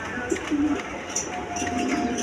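Domestic pigeons of several breeds, including colouring Rajgolla types, coo softly in a loft, low murmuring calls repeating over steady background noise with no talking.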